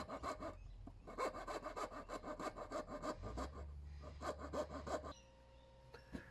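A hand saw cuts through wood in steady back-and-forth strokes, rhythmic, rasping and close, continuing for several seconds before a brief pause.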